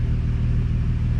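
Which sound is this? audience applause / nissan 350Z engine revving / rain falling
nissan 350Z engine revving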